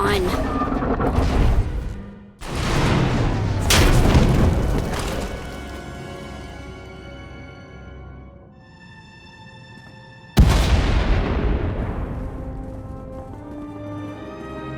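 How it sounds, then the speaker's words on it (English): Explosions in the Star Wars: The Old Republic video game, with loud booming blasts at the start, a second burst after a brief gap, decaying rumble, then another sharp blast with a ringing tail. "We heard explosions."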